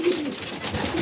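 Racing pigeons coo in a pigeon loft, with low soft coos at the start and end over a close, busy background of shuffling and rustling.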